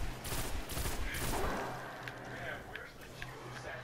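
Gunfire in the video game Destiny while playing as a warlock: a burst of rapid shots up front, followed by sparser, fainter single pops over a humming game soundtrack.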